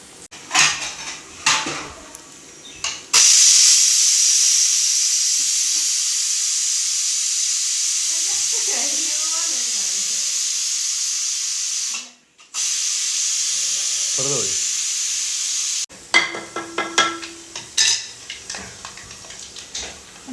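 Coconut pieces for a village-style chicken curry hit a hot pan with a sudden loud, steady sizzle that runs for about twelve seconds, cut briefly once, with utensil clinks before and after.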